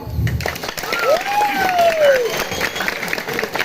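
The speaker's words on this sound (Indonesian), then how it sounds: "Tapi tepuk tangan dulu." Crowd applause at a comedy performance in Klungkung, Bali, with gamelan accompaniment: a sustained wash of many hands clapping, moderately loud, with a voice speaking over it and a brief rising-falling vocal tone in the middle.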